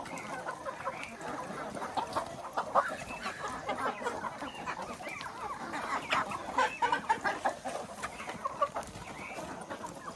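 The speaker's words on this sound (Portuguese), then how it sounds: "É força de galinha, ó." Farm chickens cluck and squawk in a busy, overlapping flock while being fed corn, steady and close with no talk over them.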